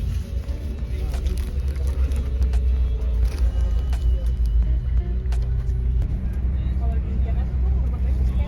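An intercity bus, GHTS 096, drives along the road, heard from inside as a continuous low engine rumble with steady road noise and occasional rattles, loud and unbroken throughout.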